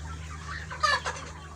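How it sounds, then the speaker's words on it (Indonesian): A chicken with respiratory snoring, caused by heat and ammonia in its coop, gives a short raspy cluck close by with no other sounds. "Ini kebetulan ayam saya ini ngorok akibat terlalu panas ya di dalam kandang ini sobat ternak ya."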